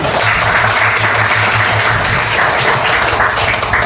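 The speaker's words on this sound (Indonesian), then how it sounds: "Kita beri aplaus untuk Toti" Audience applause at an Indonesian teacher coaching session, a dense, steady wash of many hands clapping that holds loud and continuous throughout with no speech over it.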